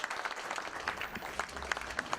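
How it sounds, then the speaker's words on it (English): A crowd applauds at the end of a racquetball match, a brief, moderately distant patter of steady clapping with no voices over it. "that's a well-deserved round of applause"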